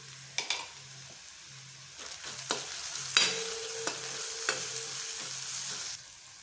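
Green chili and ginger-garlic paste hit hot oil in a pan for a restaurant-style veg pulao. There is a steady close sizzle with sharp stirring clatters and spoon taps throughout, and no talk.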